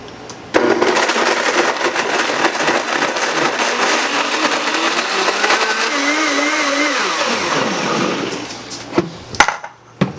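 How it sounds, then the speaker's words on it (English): A blender whirring through a Brazil nut shake with sea moss and hemp seeds, loud and steady for about eight seconds, the motor pitch sagging and dropping before it cuts off, followed by a few clunks. "Let's go ahead and get this blended up."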